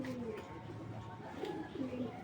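Soft, low cooing from domestic pigeons, including a stone-eyed hen, in a backyard pigeon farm loft: a few faint rolling coos near the end over a quiet hum, with a voice murmuring in the background.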